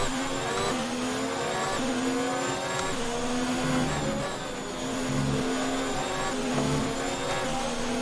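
A Ferrari Formula 1 car races in F1 2019 at the Mexico circuit, its engine droning steadily with shifting pitch through the whole stretch, a second car's whine swelling and dipping alongside, no talk.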